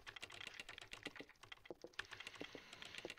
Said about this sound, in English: Hans Klomp basically ignores us and types extremely loud